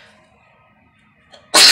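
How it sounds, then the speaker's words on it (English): A single loud, sharp sneeze bursts out at the very end after a stretch of near-silence with faint background hum. "It was a difficult sneeze to get out."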